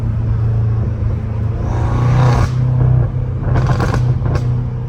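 A BMW M5 F90 Competition fitted with a full titanium exhaust and downpipes drones with a deep, steady rumble nearby, swelling into two stronger revs partway through and near the end.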